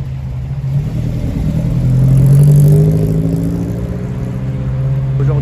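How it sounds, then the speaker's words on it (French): An Alfa Romeo GT Bertone coupé's engine at a car-spotting event rises to a loud, steady drone and then eases back slightly, with no talking over it. "et le bruit derrière du coupé GT Berton là"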